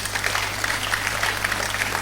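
Applause rises from the audience at the Nigeria Poultry Show, a steady patter of many hands clapping across a hall, at moderate loudness, with no voices over it.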